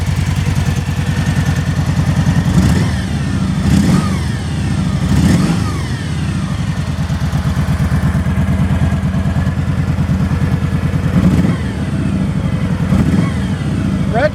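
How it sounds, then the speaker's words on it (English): A 2012 Kawasaki Vulcan 1700 Voyager engine with stock exhaust rumbles close by at idle, with several sharp revs rising and falling over its steady low throb. "let's go ahead and crank this one up for you. This has the stock exhaust on it."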